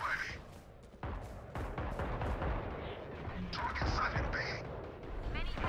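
Gunfire in the shooter Valorant, a loud string of sharp shots and bursts over a dense, busy game mix, with no talking.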